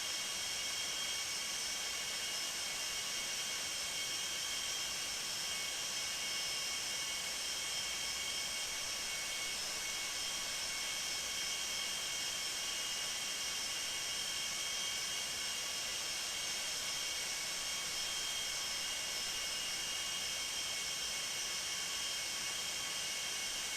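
Jet engines of a Boeing 747-200 in the X-Plane flight simulator hum as a steady, fairly quiet, even whine and hiss, unchanging throughout with no voices over it.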